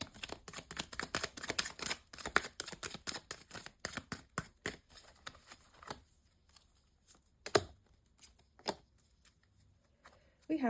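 Tarot cards are riffled and shuffled in quick, rapid flutters, close and crisp, then slowing to a few scattered snaps and taps near the end.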